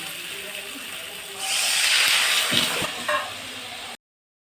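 Water is poured into fried spice paste in a hot wok, and a loud hissing sizzle rises suddenly, holds for about two seconds, then settles to a quieter bubbling.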